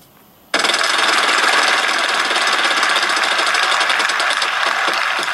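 A loud, rapid clattering ratchet starts abruptly as the prize wheel spins in a Wheel of Fortune game on an iPad, a dense buzzing tick that carries on steadily and eases slightly toward the end.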